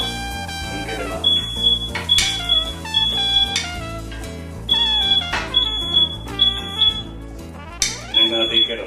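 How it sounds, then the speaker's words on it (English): A smoke alarm goes off in a kitchen during stovetop cooking, sounding repeated sharp high beeps in bursts over music and someone talking. "Alright, you see, the smoke alarm."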